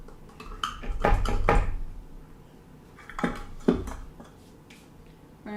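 All-purpose flour for ginger snap cookies being stirred in a container, giving two bursts of scraping and rustling with soft knocks against the bowl, close and moderately loud.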